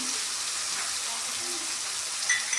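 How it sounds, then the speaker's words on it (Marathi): Green beans cooking in oil with homemade chutney over a low gas flame, giving a faint, steady sizzling hiss with light stirring throughout and no talk. "आता ही चटणी थोडा वेळ 2 मिनिट याच्यामध्ये परतून घ्यायची"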